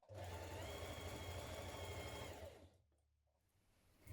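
A sewing machine stitches a hemband onto a Tessuti Hazelwood top, running in one steady, fast mechanical whir for about two and a half seconds before stopping, leaving quiet room noise.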